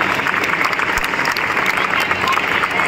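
An audience at the inauguration of a state Tennikoit championship breaks into loud, sustained applause, a dense wash of clapping lasting the whole moment, with a voice faintly heard beneath it.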